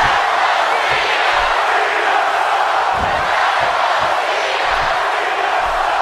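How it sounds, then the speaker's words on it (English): A wrestling event crowd roars continuously and loudly, a dense wash of cheering and shouting with scattered thumps, close and filling the whole space. "You can hear this crowd."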